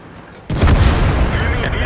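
A high-explosive shell strikes the thick armor of an IS-7 tank in World of Tanks, a sudden loud boom followed by a sustained rumbling roar.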